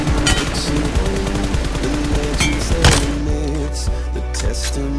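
Rapid gunfire in PUBG as the player shoots while walking, a dense run of loud shots repeating through the whole stretch over steady game background sound.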